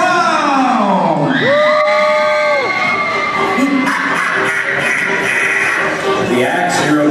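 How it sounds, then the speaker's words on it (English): A crowd at a live clown and sword-swallowing show cheers loudly: children shriek and whoop, voices rise and fall in long yells over a dense, continuous roar of audience noise. "A big round of applause for Winnie the Clown!"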